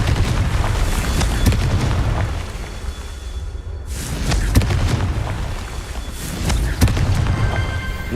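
A Confringo blasting spell goes off during a Merlin trial in the Hogwarts Legacy video game. Loud, rumbling booms fill the scene with sharp cracks at several points, a brief drop-off near the middle, and a renewed heavy roar afterward.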